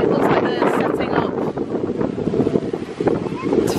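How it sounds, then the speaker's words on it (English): Strong gusting wind buffets the microphone at Universal Orlando Resort, a loud blustery rumble that rises and falls, with a voice speaking underneath. "It's gone very windy."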